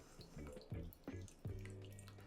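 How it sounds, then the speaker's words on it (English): Rinse water drips and trickles through a paper filter in a pour-over coffee brewer, several distinct resonant drops and splashes, quiet and close. "let's rinse the filter, get rid of the paper taste, and preheat our vessel"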